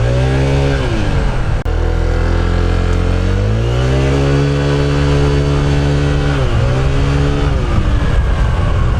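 A Honda ADV 160 scooter with a premium aftermarket CVT setup, ridden in racing mode, accelerates hard with a loud, close engine whine that climbs in pitch, dips briefly and climbs again, with no talking.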